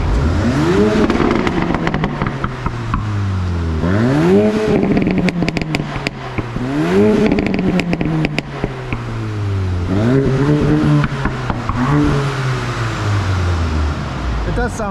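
A VW Golf MK8 GTI with a Stage 1 tune revs hard on a dyno, climbing again and again through loud, rising engine sweeps with brief drops between pulls, close and dominant throughout.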